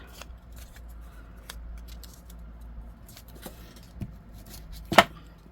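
Scissors trimming paper for mixed-media journal cards: quiet rustling and handling give way to one sharp, close snip near the end.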